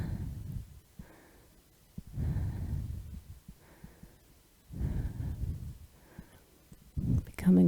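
Slow, steady breathing during a yoga warrior pose, with long soft inhale-exhale cycles repeating about every two to three seconds, close and quiet, ending in a brief louder breath or noise.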